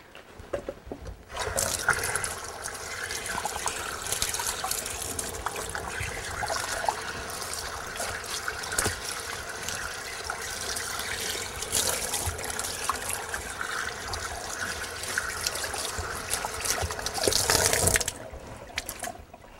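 Running water pours steadily over an animal hide to wet it down before skinning, a continuous splashing trickle like a tap into a sink, close and even throughout with no talk.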